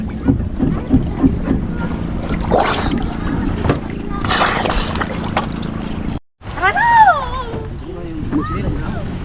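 Twin-engine boat with two propellers running on open water, a steady motor drone with wind buffeting the microphone, a brief dropout, and people talking over it.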